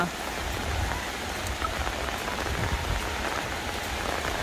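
Steady rain falls on a surface nearby, a dense continuous patter with no letup.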